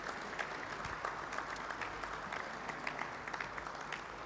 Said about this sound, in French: Alors on peut l'applaudir parce qu'on a vraiment une belle ville.